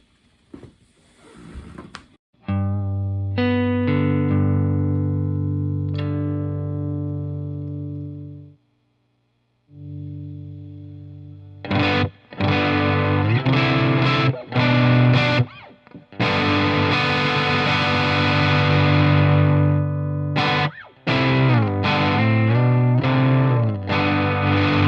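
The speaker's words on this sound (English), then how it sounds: "So first, the Walrus 385." Electric guitar through a Walrus 385 distortion pedal, first a sustained held chord, then a short pause, then bursts of heavily distorted, aggressive riffing with choppy stops, close and loud.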